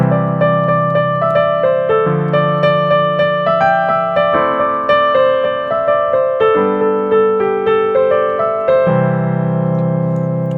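A catchy dance melody on a bright synth with chords added beneath, loud and close, moving in stepped sustained notes over a steady repeated rhythmic pulse with no voices.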